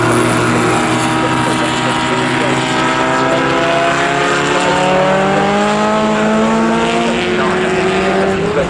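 Historic front-engined Formula Junior race car lapping Silverstone during an HSCC championship race, its engine note loud and rising steadily through the gears as it passes close by, with a continuous buzzing drone throughout.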